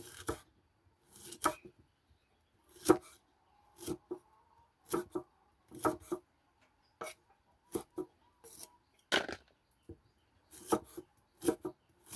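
Lemons are chopped with a knife on a board: about twenty sharp, close knocks come in irregular bunches with short pauses between them, over a quiet background.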